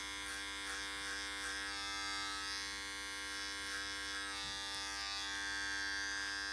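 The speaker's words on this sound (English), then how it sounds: "Then I'm going to take the clipper at a 45-degree angle and just get it off the ears." An electric hair clipper buzzes steadily and close while trimming around the ears during a short men's haircut, a constant tonal hum with slight shifts as it moves.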